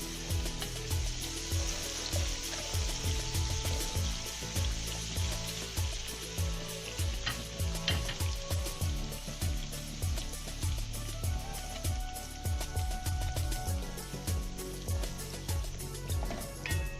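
Garlic, then shallots and onion, sautéing in hot oil for a Padang green chilli sambal, with a steady close sizzle and frying crackle that runs unbroken throughout, joined by occasional scrapes and clinks.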